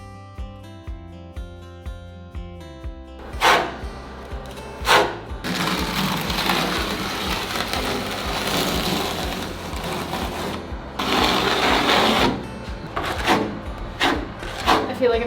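A drill mixes thinset mortar in bursts, loud whirring runs separated by pauses, each with rough scraping and churning, and a quiet tonal sound and talking in the short gaps between runs.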